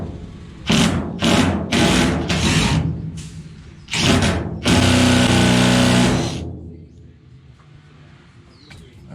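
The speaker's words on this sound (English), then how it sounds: "I'm gonna drill down here" Power drill boring a hole on a Chevy Silverado truck while fitting camper hold-downs; several short close bursts of whining motor, then one longer sustained run before it stops and the clip falls quiet.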